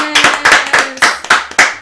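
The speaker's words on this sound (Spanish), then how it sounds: "un aplauso para Alfredo" A small group of listeners at a home-buying seminar claps for Alfredo, a prize winner: about seven sharp, evenly spaced claps, close and fairly loud, over a faint steady hum.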